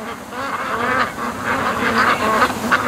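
Panicked ducks on a lake let out a dense chorus of quacks, rising and falling in clustered bursts, fairly loud and continuous, with a few honk-like calls mixed in.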